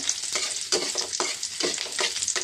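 Onion, garlic and dried chili sizzle steadily in hot oil for dal while a spoon scrapes and stirs the pan in repeated strokes, close and loud, with no voices.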